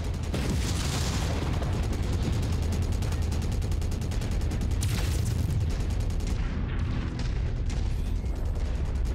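Ammo exploding from machine guns in the MechWarrior 5 video game makes a dense, continuous roar of booms and rapid gunfire crackle. It sounds loud and close, with bursts sharpening near the middle and end.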